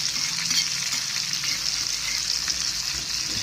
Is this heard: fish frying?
yes